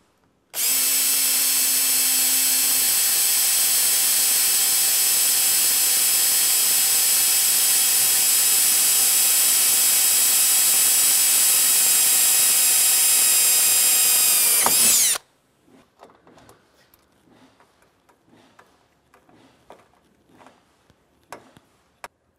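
A power drill with a 7/32 bit bores into a metal radiator bar on a 1999-2012 Chevy/GMC truck, a loud steady high whine running about fifteen seconds before cutting off, followed by faint ticking and handling noises.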